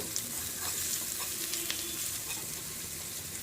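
A small onion frying in a pan for peanut chutney, a continuous close sizzle and crackle with faint stirring, no voices.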